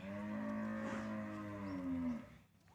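A cow moos in a long, drawn-out low bellow lasting over two seconds, loud and close, with no talking.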